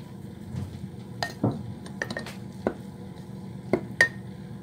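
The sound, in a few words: stirring sourdough starter with plastic or wooden spoon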